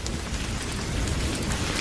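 Steady, dense rain falls continuously and close by, a constant broadband wash with no voices over it.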